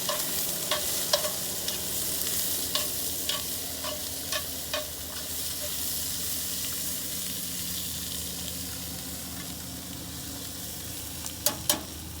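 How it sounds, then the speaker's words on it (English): A chili pepper, lightly oiled, sizzles quietly in a fire during carnitas cooking, with a low, steady hiss broken by scattered sharp crackles and pops. "Drop one of the chilies in the fire."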